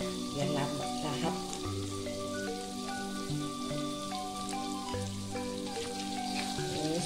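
Salted fish stir-fried in a pan gives a steady, soft crackling sizzle that runs beneath louder background music.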